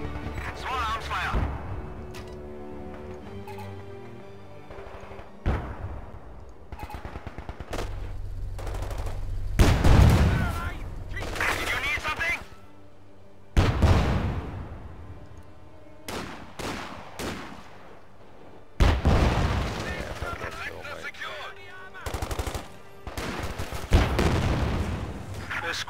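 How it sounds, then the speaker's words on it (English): Small arms gunfire from the World War II strategy game Company of Heroes 2 rattles out in loud, sharp bursts and single cracks, separated by short pauses, with heavier crashing impacts and occasional voices mixed in. "Small arms fire!"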